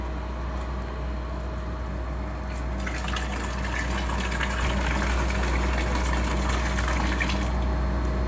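Water gushes steadily from a tap or pump for a cold-water bath, a continuous rushing flow that grows louder and brighter midway through, with a low hum underneath and no voices.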